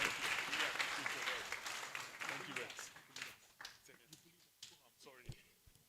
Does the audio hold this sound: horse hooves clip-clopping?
no